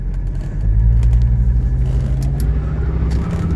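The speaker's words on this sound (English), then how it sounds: "Oh, spun the tires a little right there." A 1984 Mercedes 300D diesel pulls away on a test drive and its tyres briefly spin, a loud low rumbling engine drone swelling steadily from inside the car.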